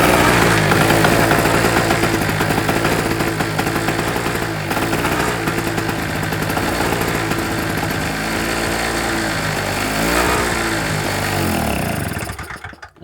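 An old Honda or SIP generator engine runs on choke with a steady, loud, rough drone. It starts to falter and dies away in the final second as it runs out of petrol.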